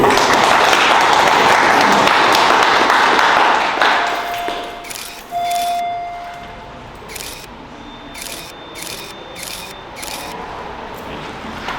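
Applause from an audience at a community ceremony honoring local helpers during a water crisis: dense, loud clapping for about four seconds that fades into sparse taps and a few camera shutter clicks.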